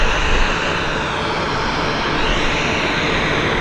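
An airliner departing Vancouver airport roars steadily with a broad, loud engine rumble, holding constant without any voices over it.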